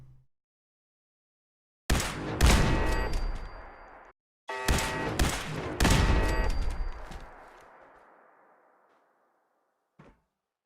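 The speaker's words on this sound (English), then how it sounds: "Hear all the, like, gunshots and stuff." Gunfire in the game Fallout 4: two loud bursts of rapid overlapping shots, each ringing out and decaying, separated by a short gap, with a faint brief sound near the end.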